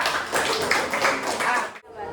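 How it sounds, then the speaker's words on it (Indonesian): A class of students claps for a group in an Islamic religious education lesson, a short burst of brisk clapping that stops abruptly near the end. "tepuk tangan buat kelompok 3"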